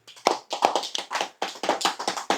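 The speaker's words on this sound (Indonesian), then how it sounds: "Tepuk tangan." A small audience gives brief, uneven applause, with sharp, close claps in a quick irregular rhythm for a couple of seconds.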